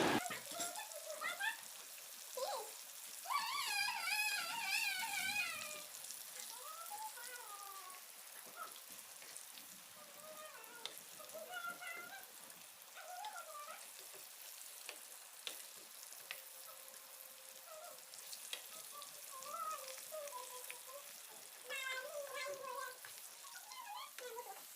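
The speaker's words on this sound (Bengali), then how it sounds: "এরপর আলুগুলোকেও লবণ হলুদ দিয়ে ভেজে নিচ্ছে।" Potatoes frying in oil with salt and turmeric for a Bengali koi fish curry give a steady, close sizzle and crackle throughout, with a voice talking over the frying at times.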